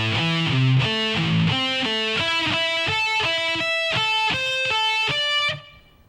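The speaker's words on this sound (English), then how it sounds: "lick number 7 should sound like this at a slow tempo" Lick number 7 played slowly on distorted electric guitar: a run of about a dozen clearly separated notes stepping upward, ending on a sustained note that cuts off, close and solo.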